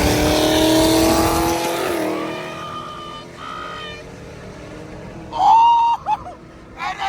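A Camaro ZL1 accelerates hard on a freeway, its engine loud and rising for about two seconds before fading into the distance, followed by a brief sharp high tone near the end.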